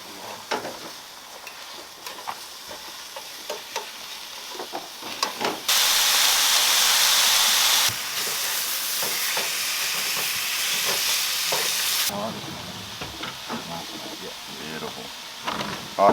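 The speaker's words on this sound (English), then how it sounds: "So Brayden's just cooking up some lunch out of the back of his Hilux here." Lunch cooking on a camp stove out of the back of a Toyota Hilux in a secluded pine forest campsite, a steady loud hiss and sizzle rising abruptly for several seconds amid quieter crackling and faint outdoor background.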